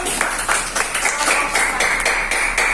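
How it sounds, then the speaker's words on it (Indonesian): A class of students claps together in a classroom, a steady run of close, bright hand claps lasting the whole moment with no talk over it. "Oke, tepuk tangan dulu."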